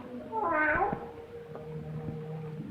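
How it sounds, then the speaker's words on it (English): A cat gives a single drawn-out meow among graves in a cemetery, heard in a 1942 black-and-white crime film, set against a faint, steady background hum. "keep that cat from desecrating my graves"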